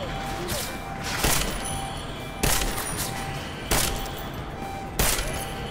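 Four sharp gunshots in the video game Deus Ex: Mankind Divided, fired at roughly even intervals of about a second, each a bright crack over a steady background of game ambience.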